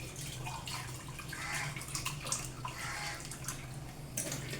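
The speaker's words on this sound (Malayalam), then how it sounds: "എന്നിട്ട് നമുക്ക് ഇച്ചിരി വെള്ളം ഒഴിച്ചതൊന്ന് കലക്കണം." Water is poured into a ground fish-curry paste and stirred in, in Haripad style, a continuous faint liquid swish with small splashes and no talk.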